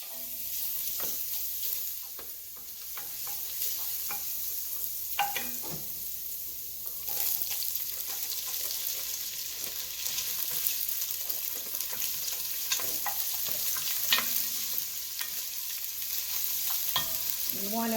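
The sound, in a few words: garlic frying in heated oil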